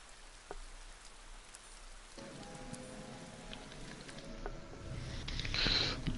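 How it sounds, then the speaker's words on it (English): Heavy rain pours down in the motorbike racing game Ride 3, a dense continuous hiss of drops drumming on surfaces that grows louder toward the end, with a faint steady engine hum underneath. "Oh, this is pouring with rain."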